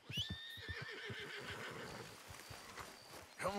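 Horses in Red Dead Redemption 2, with a loud close neigh at the start and another near the end, and quick rhythmic hoofbeats clopping in between.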